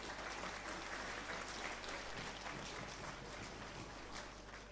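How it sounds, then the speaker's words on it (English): A large audience at a Statistics Day 2022 awards ceremony claps steadily for two awardees, dense and even applause holding for several seconds, fading slightly at the end. "A big round of applause for both these awardees"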